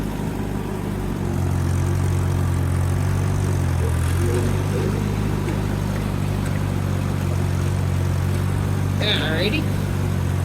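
An Allis-Chalmers CA tractor pulling a brush hog drones steadily at a moderate distance, a low continuous rumble throughout, with a brief spoken word partway in.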